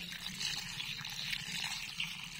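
Water poured from a mug onto the soil of a potted plant, a soft continuous trickle and splash, quiet and close with no talking.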